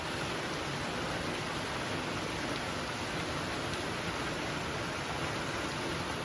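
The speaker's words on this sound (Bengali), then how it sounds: "বাইরে খুব বৃষ্টি হচ্ছে" Steady, heavy rain hisses evenly throughout, a dense wash of sound with no voices and no breaks.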